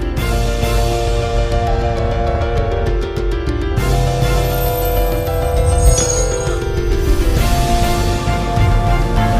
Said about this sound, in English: It's got this big burp, it does.